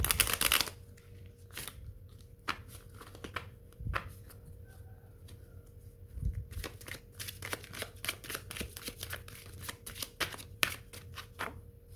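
A deck of tarot cards is shuffled close by, with repeated riffles and flicks of card against card continuing steadily throughout, no voices present.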